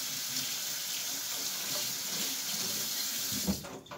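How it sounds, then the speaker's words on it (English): Running tap water pours steadily into a sink as a chestnut cracker is rinsed beneath it, a close continuous splash that cuts off near the end with a small clunk. "Maybe give her a quick rinse."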